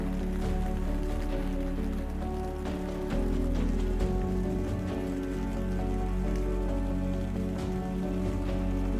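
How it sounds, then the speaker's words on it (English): Steady rain drums on a tent through the night, a dense, even patter with occasional heavier drops, close and continuous with no voices. "With rain falling throughout the night"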